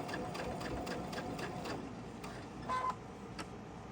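A sewing machine stitching a quilt runs in a fast, close rhythmic clatter of needle strokes, then slows and fades toward the end.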